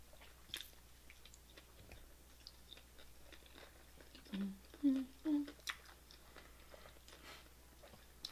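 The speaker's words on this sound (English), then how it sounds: "I'm happy because I'm eating." Chewing on a bite of a fast-food chicken sandwich, a few soft close mouth sounds and muffled bites clustered in the middle, faint and intimate against a quiet background.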